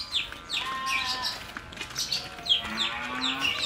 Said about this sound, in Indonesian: Kalau suara sapi.